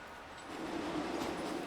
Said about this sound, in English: 431-100, built in the mid-1960s, heads this train of empty stock out of the station